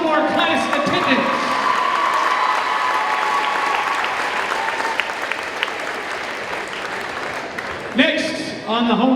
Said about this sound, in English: a round of applause for the sophomore class attendance